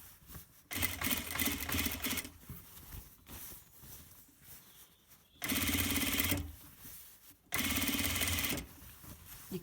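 A sewing machine stitching a neckband runs in three bursts of steady, rapid mechanical whirring and clatter, with short quiet pauses between runs, close and fairly loud, with no talking.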